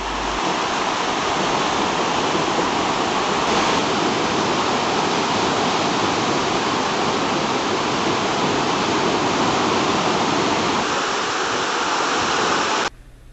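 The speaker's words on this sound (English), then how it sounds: "the Bhagirathi flows from right and Alakananda flows from the left, and both of them join here to form river Ganga" Continuous roar of rushing water where the Bhagirathi and Alakananda rivers meet to form the Ganga at Devprayag, a loud, dense, unbroken wash of sound with no talking, cutting off abruptly at the end.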